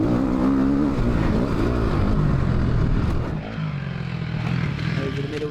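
A 450cc dirt bike engine on a motocross track, its loud buzzing roar held steady and rising into a higher rev as the rider drives out of a corner, with a voice talking over it.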